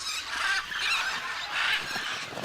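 Wild geese or similar fowl honk in a steady chorus of overlapping calls at moderate distance, a continuous flock noise with no talk.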